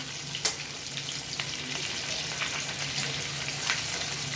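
Steady sizzling of pompano fish frying in hot oil, a continuous crackle with occasional louder pops, close by.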